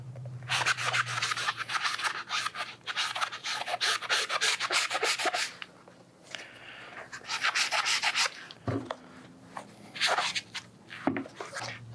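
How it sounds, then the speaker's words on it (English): Magic eraser scrubbing stains off the midsole of a 1994 Air Jordan 1 Chicago sneaker, in bursts of quick rhythmic rubbing strokes, close and dry, separated by short pauses and light handling sounds. "I have a magic eraser, and I'm just gonna try to get some of the more stubborn stains out of the midsole"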